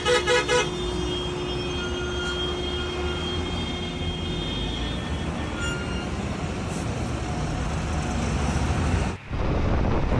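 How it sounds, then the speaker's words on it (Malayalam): Heavy traffic of cars and lorries crowds the road leading to the Zojila Pass, a steady loud engine roar with tonal horn blasts near the start and middle, and no talking. "ഇതിപ്പോൾ നമ്മൾ സോജില പാസിലേക്ക് പോവാനുള്ള വണ്ടികളുടെ തിരക്കാണ് കാണുന്നത്"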